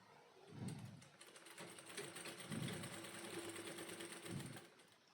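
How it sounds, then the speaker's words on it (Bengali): A sewing machine stitches a folded strip of fabric for a hair tie, its needle chattering in a steady close-up whir, briefly easing and picking up again between runs. "এইভাবে এটা সেলাই করে নেব।"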